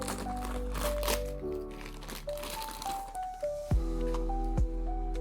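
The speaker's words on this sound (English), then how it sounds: "So let's unwrap it together." A Papo Musk Ox figure is unwrapped from its plastic bag, giving close crinkling and rustling with a few sharp crackles over a steady low hum, and no talk.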